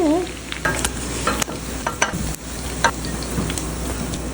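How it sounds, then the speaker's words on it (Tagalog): Meatballs frying in oil in a pan, a steady close sizzle punctuated by sharp pops and spatters, with a brief whine at the very start. "ipa-fry ko lang to hanggang sa maluto siya"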